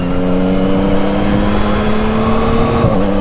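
A 2021 Yamaha MT-09 motorcycle pulls hard under acceleration, its engine note holding a steady rising drone with a brief dip near the end as a quick-shifter gear change goes through, loud and close throughout.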